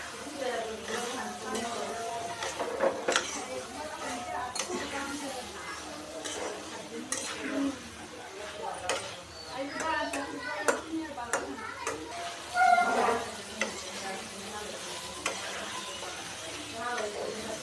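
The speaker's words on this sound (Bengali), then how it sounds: "লতিগুলো দেওয়া হয়ে গেলে এবার আমি একটু নাড়াচাড়া দিয়ে মশলাগুলোর সাথে কষিয়ে নিব।" Taro stolons are stirred and fried with spices in a pan, giving soft scraping and light sizzling with scattered utensil taps, quiet under ongoing talk.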